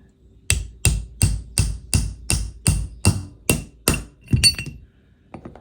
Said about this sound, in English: Just a few light taps.